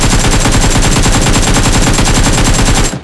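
AKM rifle fire in PUBG Mobile: a loud, rapid, unbroken automatic burst of shots at an even rhythm for about three seconds, cutting off abruptly.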